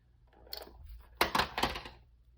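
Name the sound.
scissors cutting paper for scrapbook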